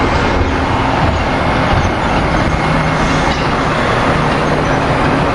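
Passenger train 655 pulling out of a station bound for 30th Street, a loud steady broadband rumble of wheels and motors that holds evenly throughout with no talking over it.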